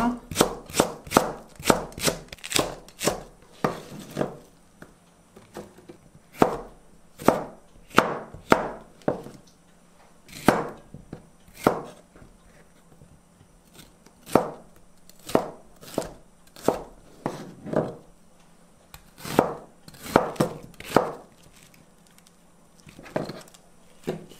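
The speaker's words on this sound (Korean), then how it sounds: "재료를 썰어 볼게요" A knife chops ingredients on a cutting board for spicy boneless chicken feet, with close, crisp thuds coming in quick irregular runs separated by short pauses.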